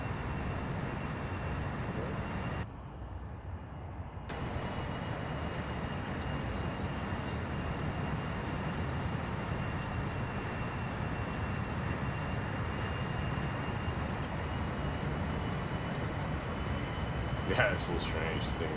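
Challenger 300 business jet taxiing in the X-Plane 11 flight simulator, a steady broadband engine whine and rumble running continuously, briefly dipping near the start, with occasional faint clicks.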